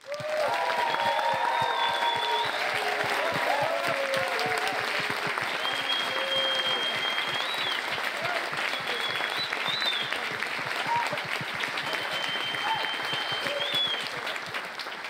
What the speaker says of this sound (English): Let's give a massive round of applause to them